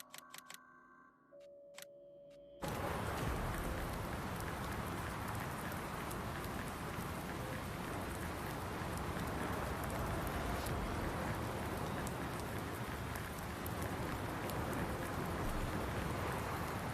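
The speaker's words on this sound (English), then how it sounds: "Really hear that rain, that's for sure." Steady rain falls in the farming game Farming Simulator 19, a dense broadband hiss that starts abruptly after a few seconds of quiet interface tones and then continues evenly and loudly to the end.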